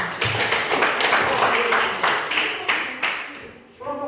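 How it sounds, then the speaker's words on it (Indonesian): A classroom group applauds a student team after a presentation, with dense, close clapping that rolls on for a few seconds before dying away as a voice begins. "Kita memberikan tepuk"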